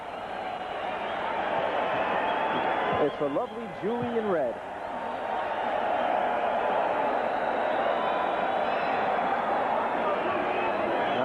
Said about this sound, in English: And now the crowd roaring even more